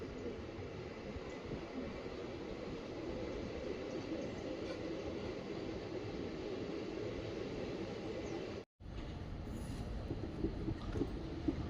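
Steady rumble of a train rolling along the tracks as it arrives at Mysore Junction platform 4, continuous and fairly loud, with a brief dropout near the end before the rumble resumes.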